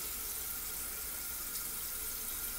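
A faucet runs steadily at a sink during makeup removal, a continuous close hiss of flowing water with no speech.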